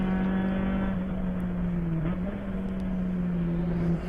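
Mazda Miata race car in a ChampCar endurance race at Sebring, a steady engine drone with a strong low harmonic that briefly dips and wavers as it downshifts, loud and sustained.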